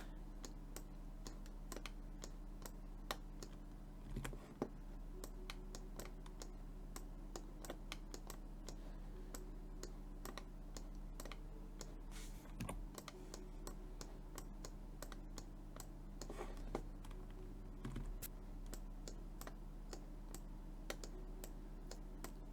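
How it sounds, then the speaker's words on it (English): Clicks from a computer mouse picked up by a small desk microphone during a digital animation stream, a steady run of faint, rapid taps and clicks over a constant low hum, with no talking. "If my mouse clicking is too loud, let me know."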